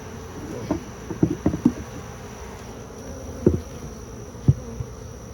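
Honey bees buzz at an open beehive during a heat wave, a steady close hum with several brief louder bursts as individual bees pass near, alongside faint light tapping.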